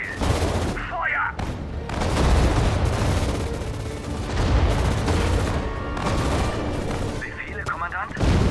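Soldiers in a World War strategy video game open fire, with dense bursts of gunshots and heavy booms repeating loudly across the battle, while voices speak over the shooting.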